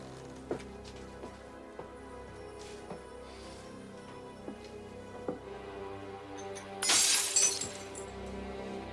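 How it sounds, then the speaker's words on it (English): A drinking glass shatters in a single sharp, bright crash in an indoor scene. Scattered light clinks and soft movements come before it, and no one speaks. "I broke a glass."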